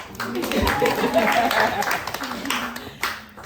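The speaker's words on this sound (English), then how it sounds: "So go ahead and clap for my girl." Audience clapping at a mental health mixer for entrepreneurs, a short uneven round of claps from a small group, mixed with murmured voices and fading toward the end.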